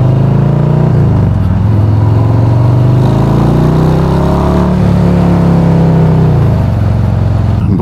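A motorcycle engine and exhaust roar loudly and continuously during a ride, a close, throbbing drone whose pitch sags and climbs as the throttle changes, with no speech.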